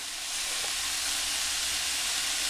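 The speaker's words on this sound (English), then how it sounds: "That's what I'm looking for, a nice good sear." Pork bites searing in a hot pan give off a steady, loud sizzling hiss that holds broad and even from start to finish, with no voices.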